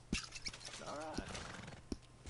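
A horse in Red Dead Redemption 2 whinnies in a rising, wavering call amid soft hoof clops and clicks, fairly quiet, with a voice faintly present.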